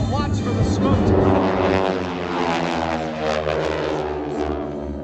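Aerobatic aircraft performing at the Smoky Mountain Air Show 2022, a sustained loud engine roar, sweeping as the planes pass overhead, continuous and strong across the whole stretch.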